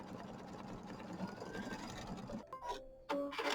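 An embroidery sewing machine runs a triple stitch down satin stitching on a Kimberbell mini quilt, a fast, steady mechanical whir that breaks into shorter stop-start bursts near the end.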